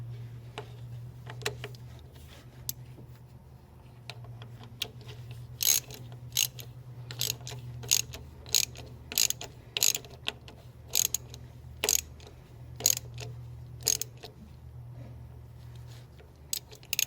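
A hand ratchet with a 9/16 socket clicks in quick, regular bursts of sharp ticks, close and loud, with short pauses between strokes, while working toward an engine's timing chain.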